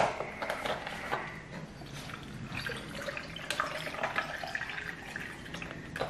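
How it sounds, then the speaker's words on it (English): Almond milk poured into a blender for a smoothie, a soft, continuous liquid trickle and splash heard quietly and up close. "You wanna fill it with almond milk or water if you guys don't wanna use almond milk."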